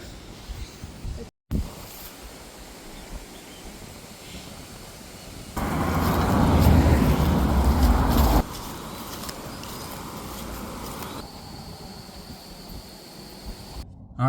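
A car drives along a road, heard from inside as a steady low road and engine rumble that swells louder for a few seconds in the middle, then settles back to a constant hum.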